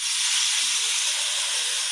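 Water poured into hot oil with turmeric powder sizzles loudly in a pan, making a broad steady hiss close up, heard alone while cooking koi fish in a spicy mustard oil curry.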